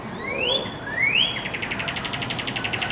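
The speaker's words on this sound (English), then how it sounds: "You got the cardinal." A northern cardinal sings two clear rising whistled slurs, then a rapid run of repeated chips, fairly close over a soft background hiss.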